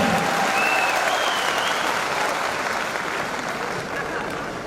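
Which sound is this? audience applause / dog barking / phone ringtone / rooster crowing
audience applause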